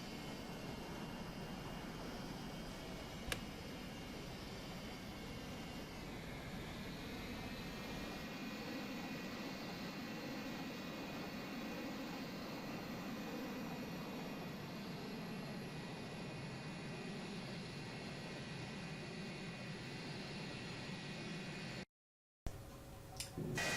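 Simulated F-104 Starfighter jet engine from a highly detailed flight simulator, a steady loud roar with high whine holding throughout, a brief click early on, then cutting to silence before a short return near the end.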